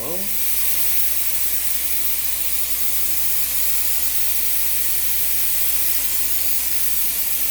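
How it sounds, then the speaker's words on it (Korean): A steady, continuous spray hiss from a spray gun misting disinfectant in a changing room runs unbroken from start to finish, loud and close, with no pauses or change in intensity. "이 호스를 길게 연결을 해서 이제 저희 스프레이 건이 있습니다"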